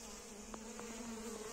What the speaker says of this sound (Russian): Вот тут активно пчелка греется на солнышке.